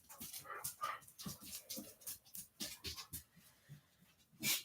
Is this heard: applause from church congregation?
no